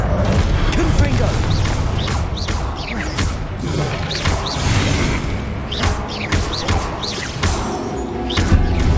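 Confringo fire spell blasts in Hogwarts Legacy, a run of loud explosive bursts and whooshes amid dense combat effects and music, with speech over the action.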